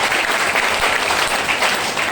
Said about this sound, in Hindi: ताली जोरदार बजाएं